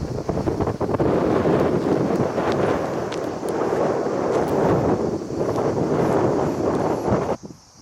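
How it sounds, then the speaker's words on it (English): Strong wind buffets the microphone on a steep hilltop at the ruins of Kamiros, a loud continuous roar with gusty swells that drops away abruptly near the end. "This wind is kind of nice, I'll tell you."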